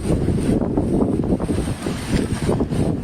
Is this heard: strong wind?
yes